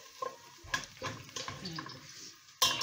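Onions fry in oil in a pan on the stove, giving a soft background sizzle broken by a few sharp scrapes and clatters of stirring, with one louder clank near the end.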